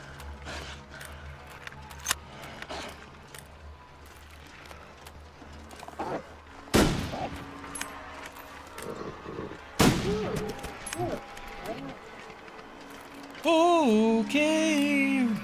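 Rifle fire from a bunker rifle in the survival game Gunloper, with a few sharp shots at mid-distance rising from a cluttered ambient bed, followed by a strained whining, tonal mechanical sound.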